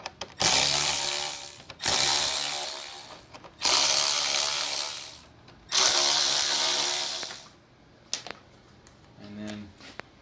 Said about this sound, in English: So you just take these screws out here.